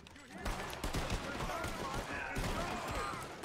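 Rapid video-game gunfire from Red Dead Redemption 2, a dense, continuous volley of shots with talk mixed in throughout.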